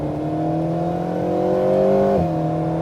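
Alpine A110R sports car accelerating on a track circuit, a loud, steady engine drone that climbs in pitch and then drops sharply with a gear change near the end, close by with no talk.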